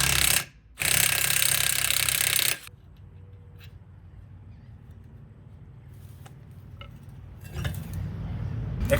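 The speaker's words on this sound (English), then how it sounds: "you want to put a piece of wood here and get a breaker bar to get this off" A breaker bar with a 1 1/16 socket working loose a Mercruiser drain plug, starting with loud, harsh bursts of noise, then a quiet stretch of faint clicks and a rising mechanical rumble at the end.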